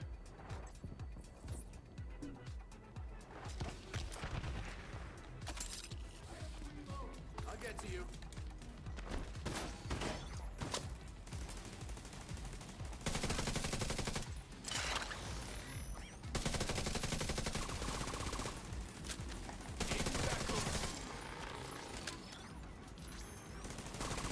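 Shotgun blasts and other gunfire erupt in a firefight in the video game The Division 2, dense bursts of shots and impacts over steady game noise and music, with a player talking at times.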